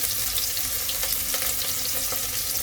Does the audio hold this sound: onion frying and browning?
yes